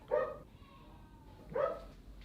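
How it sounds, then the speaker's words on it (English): A dog barks twice, about a second and a half apart, somewhat distant against a low steady background hum. "There's a dog barking."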